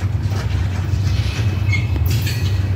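A long freight train hauled by three locomotives rolls through Chicora, Pennsylvania, giving a steady low rumble with faint rail clatter and a brief high wheel squeal, close and continuous with no voices.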